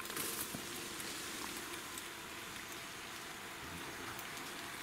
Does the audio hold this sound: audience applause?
no